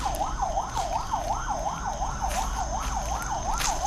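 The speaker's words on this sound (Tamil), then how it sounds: "ஆம்புலன்ஸ் சவுண்டு தானே கன்ஃபார்ம்" An ambulance siren wails in a steady repeating up-and-down cycle, fairly clear and moderately close, over a low rumbling background with no talking.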